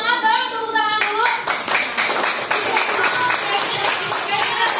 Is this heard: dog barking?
no